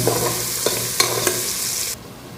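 Onion and spices sizzle in a pan while a utensil stirs them, with several scraping strokes over steady frying hiss. The sizzle drops off abruptly near the end.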